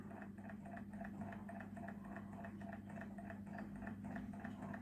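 A hot air engine runs steadily and quietly with a soft regular rhythmic chugging over a low hum, gradually slowing down.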